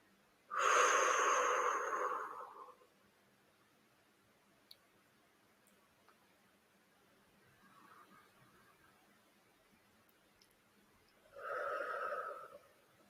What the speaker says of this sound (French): Et vous inspirez par le nez.